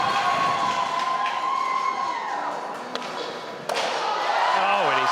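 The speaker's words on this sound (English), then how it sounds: "You can hear the crowd hyping him up." A crowd cheers and shouts at a skateboarding contest as a skater attempts a trick, a lively murmur of voices swelling around board thuds and clacks, with a commentator talking over it.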